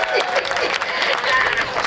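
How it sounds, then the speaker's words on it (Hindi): Audience applause at a Hindi stand-up comedy show, a steady wash of clapping and crowd noise running loud and unbroken throughout, somewhat thin in character, with no clear voices standing out. "तालियां कमजोर है"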